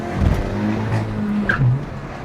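A short, close burst of a Hyundai i20N engine revving, a rough throaty rumble that swells briefly and drops back, with a light mechanical tick partway through.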